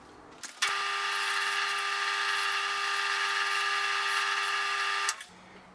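A power drill running a drill bit along a slot in a guitar body whirs at a steady high pitch for about four and a half seconds, starting and stopping abruptly.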